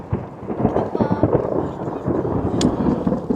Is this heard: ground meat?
no